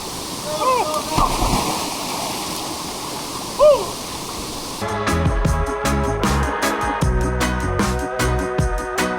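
Steady rushing water from a waterfall on St Vincent pours throughout, with a brief voice and a thump early on, then the roar continues under a layer of music.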